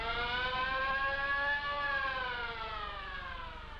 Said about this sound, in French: Votre sirène est posée, monsieur Pasquier.